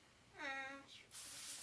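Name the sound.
garden hose spraying water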